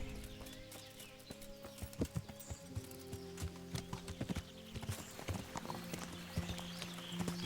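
Horse hooves clip-clop on the ground in the medieval game Kingdom Come Deliverance, a steady run of close hoofbeats over a constant droning background of game ambience and music.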